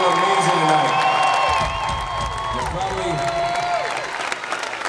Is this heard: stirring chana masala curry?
no